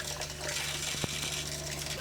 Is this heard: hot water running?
yes